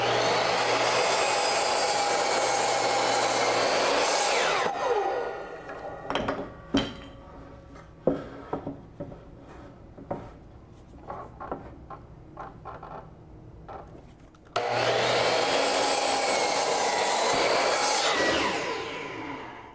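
A miter saw cutting through a wooden 2x4, heard loud and close as a sustained whine of roughly five seconds, then a quieter stretch of scattered knocks and handling clatter before a second equally long, loud cut.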